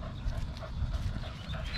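A thin dog whimpers and pants steadily at close range, soft breathy sounds filling the clip without talk.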